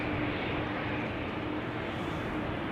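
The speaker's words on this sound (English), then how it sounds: "No, that's the 787. That's the 787-10 to Mumbai." A Boeing 787-10 Dreamliner at Schiphol Airport gives a faint, steady engine rumble and hiss from a distance, unchanging over a few seconds, with no voices.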